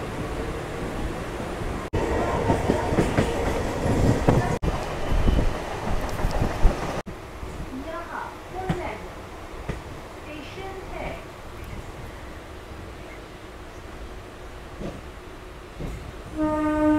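A Sealdah to Lalgola local train rolls along with a rumbling, rattling clatter that is heavier early and then settles into a steadier running rumble, with a horn-like tone near the end.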